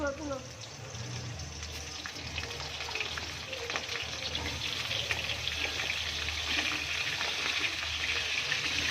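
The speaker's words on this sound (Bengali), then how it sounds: "চিকেনের আলু ভাজা হচ্ছে চিকেনের আলু" Potatoes frying for chicken curry, a steady broadband sizzle of oil that runs unbroken and fairly close, with faint clinks and stirring sounds in the pan.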